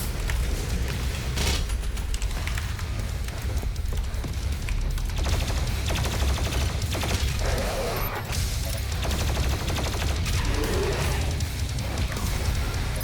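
Sustained, loud barrage of booming blasts and crashing impacts from the BFG 10000 firing in Doom Eternal, a dense roar with heavy low rumble that continues without a break across the whole stretch.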